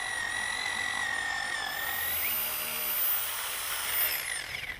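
A power drill whines steadily at high pitch, its tone shifting slightly as it works, then winding down at the end.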